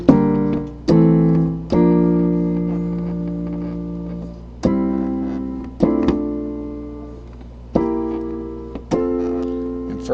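Guitar chords from a second chord shape in a lesson, strummed seven times in an unhurried rhythm, each chord ringing out and decaying before the next, close and clear with no talking.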